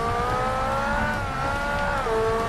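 A European R-P1 prototype race car slides through a big drift in Forza Motorsport on a low-grip circuit, its tires squealing in a sustained, wavering whine over a constant engine drone, loud and continuous.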